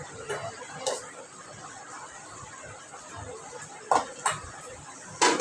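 Utensils clink against a pot as mutton is stirred with ginger garlic paste, with sharp metallic knocks at scattered moments over a low background of cooking noise.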